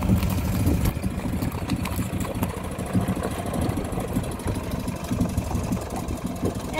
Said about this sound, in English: With the tractor right there.